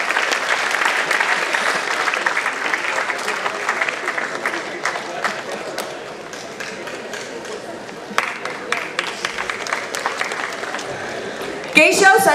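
Audience applause fills a school's annual award ceremony in Mumbai, a steady dense clapping from a large crowd that dips slightly midway, then swells again with a louder burst near the end.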